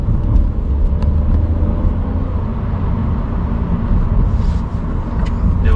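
A Kia Rio 1.0 T-GDI GT Line drives along in sport mode, its steady low engine hum and road rumble loud and close throughout, with no talk over it.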